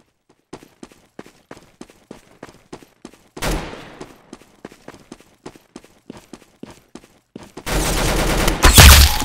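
Video game gunfire: a rapid run of sharp single shots at an even pace, a louder burst partway through, then sustained loud automatic fire to the end, with no talk.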